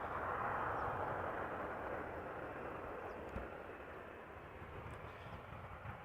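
A United Airlines Boeing 787-9 Dreamliner arriving at Amsterdam Schiphol, flight 968 from San Francisco: a distant, faint jet engine rumble that is steady, then slowly fades.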